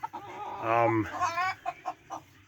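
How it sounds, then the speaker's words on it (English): Lemon blue rooster among red brown hens, a rising crow-like call followed by a run of short clucks, close and clear with no talking. "Here is a lemon blue rooster with some red brown hens."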